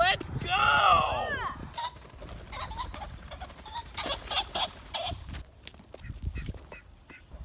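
Pheasants being pushed out of a pen on a game bird farm, giving loud close squawks and cackles at first, then scattered calls and rustling with people talking over them.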